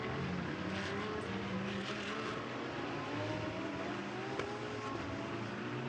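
Onboard a GT race car at the 24 Hours of Spa, a constant engine drone and wind rush run steadily through the cabin as it crosses the start-finish line, with no voices.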